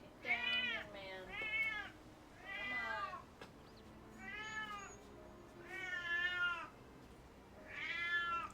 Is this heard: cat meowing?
yes